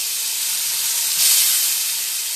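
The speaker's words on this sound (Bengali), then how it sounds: "দিয়ে দিচ্ছি তেলের মধ্যে অল্প করে হলুদ, আর যে বাটা মশলাটা এখানে রেখেছিলাম, আদা, কাঁচা লঙ্কা, একটু পেঁয়াজ, সেটা দিয়ে দিচ্ছি" Turmeric with a paste of ginger, green chili and onion frying in hot oil, a loud steady close sizzle with a brief surge as it settles, no talking.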